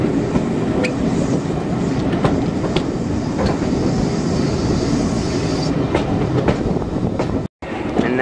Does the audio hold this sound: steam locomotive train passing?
yes